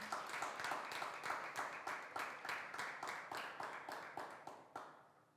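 A church congregation at a Thursday worship service claps in rhythmic, evenly spaced bursts of applause that sound close and fairly quiet, then stop abruptly near the end.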